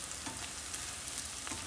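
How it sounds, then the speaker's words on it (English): Vidalia onions sizzle in a pan as they caramelize to a tan color, a steady close crackling hiss with faint stirring, no talk. "They're still sizzling"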